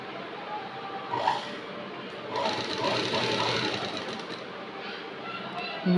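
A sewing machine runs steadily while stitching the hem edge of a crepe saree. The whirring hum continues without a break, with a few louder bumps as the cloth is handled.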